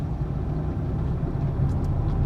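A car engine runs with a steady low rumble, heard from inside as a learner driver in second gear accelerates along an open highway; the engine note swells slightly toward the end.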